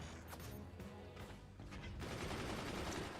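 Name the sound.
machine gun fire in the video game Forts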